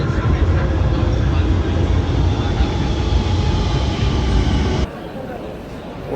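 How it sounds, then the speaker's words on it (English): A London Underground tube train pulls into a quiet station, a loud, steady roar and rumble from close by that cuts off abruptly near the end. "Here's our tube."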